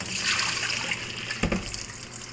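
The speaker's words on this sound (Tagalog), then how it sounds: "First, hugasan muna natin yung munggo" Mung beans being rinsed in water, a steady close wash of splashing and trickling liquid with a brief sharper splash or knock near the middle; no voices.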